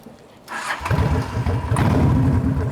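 A Honda Shadow VT 750 motorcycle fitted with aftermarket exhausts cranks and starts, catching after a brief starter whir and settling into a loud, close, throbbing idle with no talk over it.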